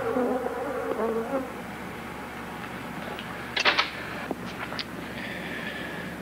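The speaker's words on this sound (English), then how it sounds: "The Africanized bees attack when annoyed by color or sound." A swarm of Africanized bees buzzes in a 1976 horror film, a dense steady drone with a low hum beneath it. Sharp ticking, clicking accents break in midway, then a faint high whine continues near the end.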